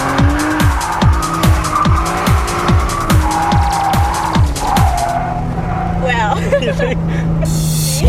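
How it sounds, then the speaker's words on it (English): Convertible Nissan Silvia drifting at Queensland Raceway: a loud engine revs up and down in repeated surges with tire squeal, then settles into a long, steady screech as the car slides. "took the girls out to Queensland Raceway to go for a ride with some of Queensland's top drifters"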